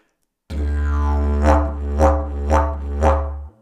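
A didgeridoo holds a deep continuous drone while cheek movements shape it into four regular swelling pulses, each brightening the tone with a wah-like overtone sweep; close and loud, without speech.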